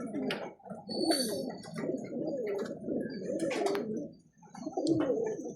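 Breeder pigeon hens in a loft cooing continuously, several soft overlapping throaty coos close by, with faint chirps and rustling in the background.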